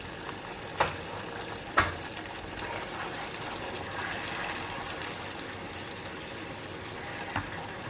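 Chopped onions fry in a pan for achari chicken, giving a steady, close sizzle and crackle with a couple of sharp clinks of a spoon against the pan.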